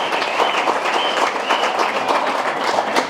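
Sustained, loud applause and clapping from an audience at a felicitation ceremony for a man selected to the BSF, steady and crowd-wide with no speech over it.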